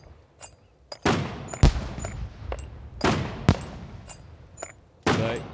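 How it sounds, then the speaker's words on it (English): Fireworks going off in the survival game SCUM: several sharp, loud cracking bursts, each trailing into a crackling decay, spaced irregularly over a few seconds. "Oh, no, it's fireworks."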